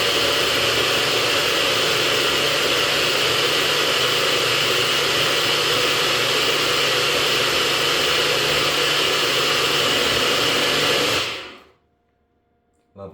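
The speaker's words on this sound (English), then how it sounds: "Sorry for the noise of the blender," A blender makes a breakfast shake, whirring loudly and steadily for about eleven seconds, then cuts off abruptly into near silence.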